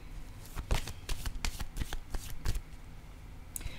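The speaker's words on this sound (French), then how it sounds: "Je vais piger une autre carte." Playing cards being drawn and shuffled close by, a quick run of crisp riffling flutters and snaps over a few seconds, no talking.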